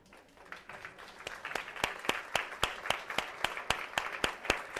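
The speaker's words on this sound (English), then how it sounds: "let's give ourselves all a huge round of applause" A crowd claps, starting scattered and swelling into steady applause with sharp individual claps standing out, heard from a short distance.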